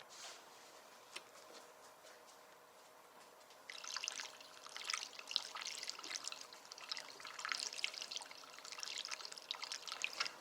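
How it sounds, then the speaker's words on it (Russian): Liquid trickles and splashes as new antifreeze is poured through the filler cap into the radiator of a Honda VT700 motorcycle, starting quietly and growing into a steady, close gurgling pour. "Через заливную пробочку заливаем новый антифриз до самого верха."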